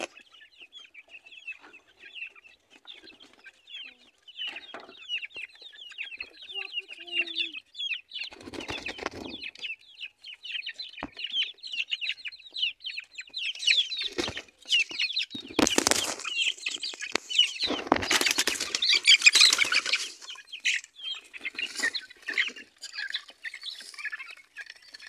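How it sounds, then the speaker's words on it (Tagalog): Chickens and chicks separated from the mother hen cluck and peep continuously, with bursts of flapping wings and louder squawking in the middle and later stretches. "Yung sisiw na malaki, niwalay na po sa nanay kasi marunong na po yan."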